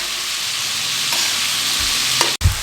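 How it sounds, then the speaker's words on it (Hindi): Beef pieces frying in ghee on a tawa over a high flame, a steady close hiss of sizzling fat with faint stirring scrapes and one brief clatter near the end. "ये 80 ग्राम घी बनता है। ये शामिल कर दिया हमने और इसके अच्छे तरीके से तेज़ फ्लेम पे हम भुनाई करेंगे"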